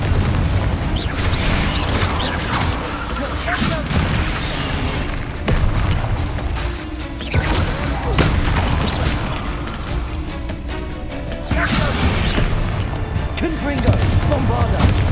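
Repeated Confringo fire-spell blasts in the video game Hogwarts Legacy, dense booming explosions and crashes stacked back to back over continuous combat noise and music, loud and sustained with brief lulls.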